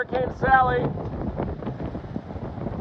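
Hurricane Sally wind gusts roar in Gulf Shores, Alabama, a dense buffeting rush battering the microphone, with a voice speaking briefly over it at the start.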